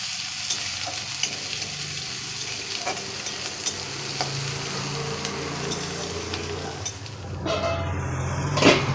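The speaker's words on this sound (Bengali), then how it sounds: "পেঁয়াজগুলোকে একটু লাল লাল করে আমি ভেজে নিচ্ছি।" Chopped onions fry in a pan with a soft, continuous sizzle and occasional stirring clicks, a low steady crackle close by, swelling slightly louder near the end.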